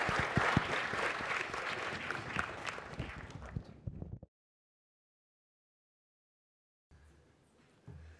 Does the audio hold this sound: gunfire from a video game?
no